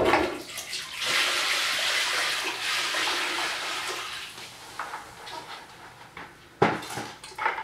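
Brine is poured from a bucket into a toilet drain, a loud rushing splash that tapers off, followed by scattered drips and clinks.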